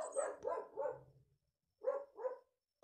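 Dogs bark in two short bursts from a home on a beach-day morning: three quick yaps, a pause, then two more, fairly clear and alone.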